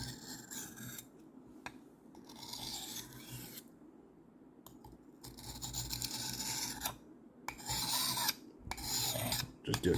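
Knife blade stroked across an 8000 grit polishing whetstone, soft repeated rasping passes in bursts with short pauses, close and fairly quiet.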